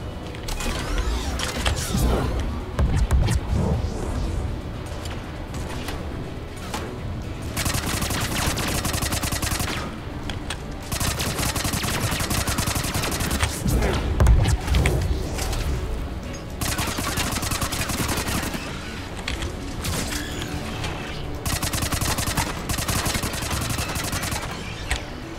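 A turret in the video game Mass Effect 3 fires sustained rapid bursts of gunfire, loud and dense, with brief pauses between long volleys and mechanical clanks mixed in.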